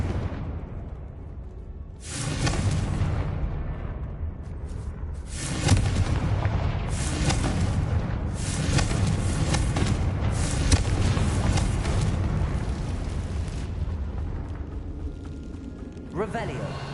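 Confringo fire spell explosions in the Hogwarts Legacy video game, inside a decayed catacomb: a series of heavy booming blasts with rumbling tails, loud and close, with a voice speaking over parts of it.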